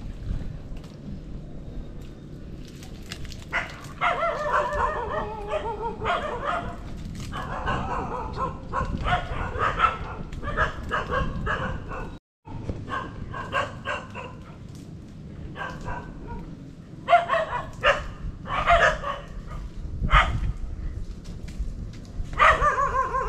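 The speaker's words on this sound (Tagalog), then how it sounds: "marami pong aso" Several dogs bark repeatedly, overlapping and fairly close, over steady wind and outdoor noise, with a brief dropout partway through.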